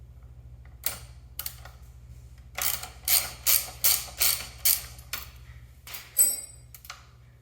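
A ratchet turns a T45 Torx pivot bolt and 13mm nut on a brake pedal, with several isolated clicks followed by a run of evenly spaced ratcheting strokes and a few final clicks, close and fairly quiet.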